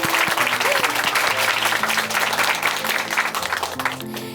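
Warm congregational applause for a brother after his testimony in a church, a dense wash of clapping that stays strong, then thins and fades near the end while low sustained musical tones play beneath.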